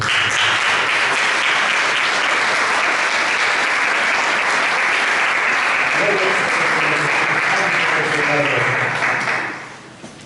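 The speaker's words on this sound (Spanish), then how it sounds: "Dale un fuerte aplauso" Loud, sustained applause from a large church congregation fills the room, with some voices rising underneath toward the end before the clapping fades out.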